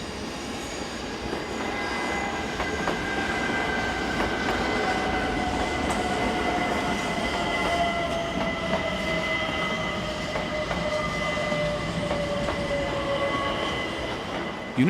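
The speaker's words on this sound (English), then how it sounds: "it is the turn of the outward train to split and to carry on its journey to the two destinations" A Swiss narrow-gauge train at a junction, splitting into portions bound for Lauterbrunnen and Grindelwald, with power units from 1986: a steady, continuous rolling rumble with long drawn-out metallic whines and faint squealing, close and even throughout.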